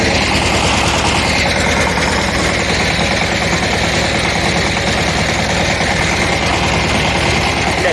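A Shifeng SF 160 tractor plows deep furrows in a field, its engine giving a loud, steady, rumbling drone that stays constant from start to finish without pauses.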